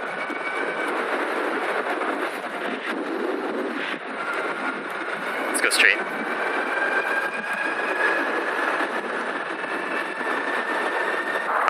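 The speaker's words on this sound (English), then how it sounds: "the motor is loud" A loud electric motorbike motor whines steadily while riding over continuous road rumble, with a brief spoken phrase partway through.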